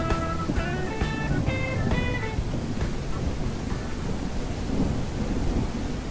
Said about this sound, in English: And here comes the thunder and lightning.